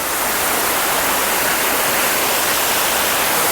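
A river waterfall inside a zoo's butterfly park ecosystem pours with a loud, dense, unbroken rush of falling water, constant and close, with no voices over it.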